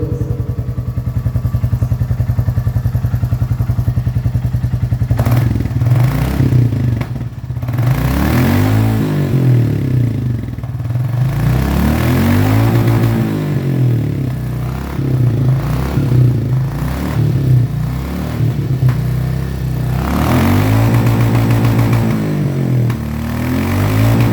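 A Royal Enfield Commando Sand 350 motorcycle engine runs close and loud for the whole stretch, a steady thumping beat with repeated throttle blips and revs rising and falling.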